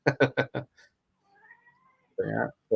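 A cat gives a string of quick, close meows, then falls briefly silent before a longer drawn-out meow and the start of another.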